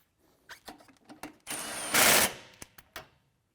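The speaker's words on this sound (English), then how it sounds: "These can be tightened using the impact." An impact wrench rattles briefly as it tightens short 12mm bolts on a 360 BANDIT base unit, with several short clicks and handling knocks leading into a loud half-second burst of hammering whine.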